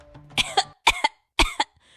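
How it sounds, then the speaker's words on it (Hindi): Monkeys coughing from strong chili smell and dust, three harsh hacking bursts spaced evenly, close and loud, in a cartoon story. "मिर्च की तेज गंध और धूल से बंदरों का सरदार और उसके साथी खांसने लगते हैं"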